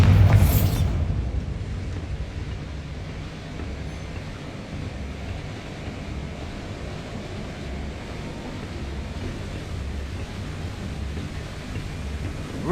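Bombarda spell in Hogwarts Legacy, a sharp blast at the start followed by a long low rumbling roar that lingers without any talking.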